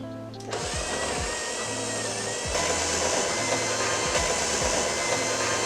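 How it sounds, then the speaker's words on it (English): An electric hand mixer beats cake batter with eggs for a marble cake, a steady loud motor whir holding throughout, with faint periodic clunks as the beaters work the bowl. "Now I'm going to combine what I just did with the eggs one by one with my hand mixer."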